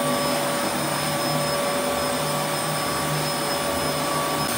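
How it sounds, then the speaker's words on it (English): A hoover vacuuming a floor back and forth, a loud, steady motor whine with a broad airy rush that barely changes, close by and continuous with no talking. "Proceed to hoover back and forth, making sure you cover the whole surface."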